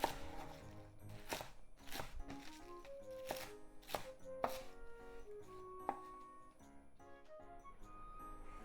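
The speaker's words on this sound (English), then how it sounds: "Cut them into half, put them together. Then 2 inches or so." A knife chops garlic chives on a cutting board in a steady series of crisp, close cuts with a few faint clinks, no talking.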